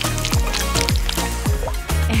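Candy eyeballs dipped into melted chocolate during a chocolate food cooking competition, giving wet, squelchy plops and sloshes in quick repeated dips, loud and close.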